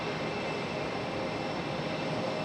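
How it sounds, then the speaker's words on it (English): A US Airways airliner departs from Raleigh-Durham airport, its engines producing a continuous broad roar that holds steady and moderately loud across the short stretch, with no talking. "we got US Airways about to depart"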